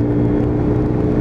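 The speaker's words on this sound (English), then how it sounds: "I'm literally opening full throttle and just letting them revs build up" A Lexmoto Titan motorcycle engine held at full throttle, revs building in a loud, continuous close-up drone over a brief moment, with no talking.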